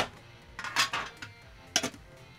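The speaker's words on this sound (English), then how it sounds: "Tins just make a lot of noise." A metal Pokemon card tin is handled up close, giving a few short clanking, clattering bursts over quiet room tone, no speech.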